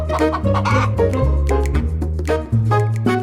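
A hen clucks rapidly and loudly while running, a close and insistent string of squawking calls with no pauses and no talking.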